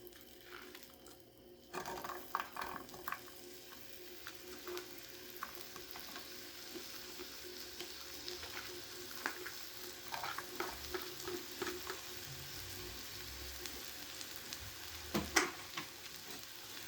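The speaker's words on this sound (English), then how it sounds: "While the butter's starting to melt, this is where we'll add our onions so that they can saute." Onions sautéing in melted butter on a stovetop while cooking green bean casserole, a steady quiet sizzle with occasional louder crackles and stirring scrapes, heard alone at a moderate distance.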